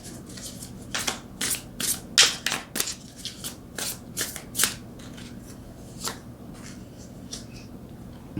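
Tarot cards being shuffled by hand in a quiet room, a run of crisp riffling bursts and soft slaps at a steady, uneven pace with no talking.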